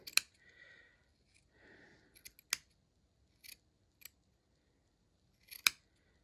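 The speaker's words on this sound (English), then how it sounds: "grab trusty scissors and we cut it in half across the grain" Sharp scissor snips cut a bacon roll in half across the grain in a handful of quick, crisp clicks, with short rustling scrapes between them, close and otherwise quiet.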